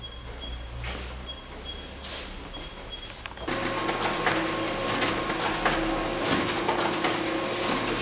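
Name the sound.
laser printer printing book signatures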